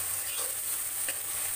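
Tomatoes, with potatoes, onions and salt, cook in a pan for chow mein, producing a soft, steady sizzle with a couple of faint stirring scrapes close by.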